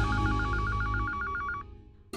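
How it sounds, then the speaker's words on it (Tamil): A telephone rings indoors in a Tamil television serial household, a steady repeating electronic ring that sounds clearly for about a second and a half, then stops. "அம்மா ஃபோன் அடிக்குது பாருங்க."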